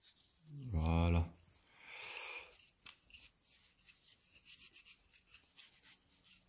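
Excess is wiped off an airsoft pistol part, a first-generation Poseidon P17 EVO, with a brief close rubbing swipe followed by quieter scattered handling noises.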